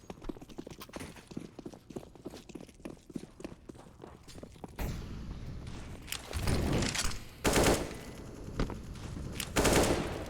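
Rapid gunfire bursts in a Counter-Strike match on the Mirage map, starting as quick clattering shots and footsteps, then giving way to louder sustained bursts, close and sharp, with no talk.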